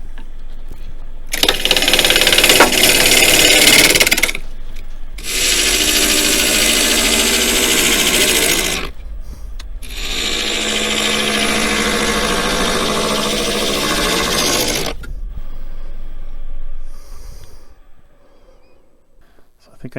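A wood lathe spins a walnut bowl while a freshly sharpened bowl gouge cuts in three long, loud, noisy passes, with short pauses between them and a motor hum running underneath.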